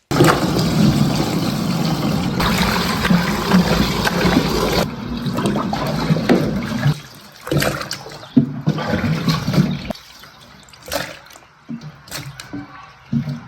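Boiled bamboo shoots are rinsed in water, a loud continuous splashing and running-water rush for several seconds that breaks into scattered drips, splashes and handling noises as it quiets.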